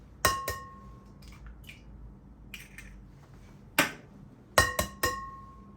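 Eggs cracked and dropped into a mixing bowl for waffle batter, heard as several sharp, close clicks and knocks against the bowl, spaced out with two quick taps near the end, in a quiet kitchen.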